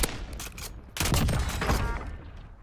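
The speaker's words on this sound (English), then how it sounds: "the Essex Model 7, the newest gun brought to us by the John Wick Ballerina event" Essex Model 7 rifle firing in Black Ops 6, a loud close volley of rapid gunshots in two bursts with a short gap, ringing tails after each round.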